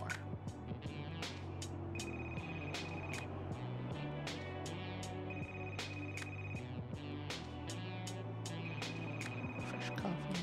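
A telephone rings repeatedly in a video game, three evenly spaced electronic ring bursts over a steady low hum and background music, fairly quiet and with no talking.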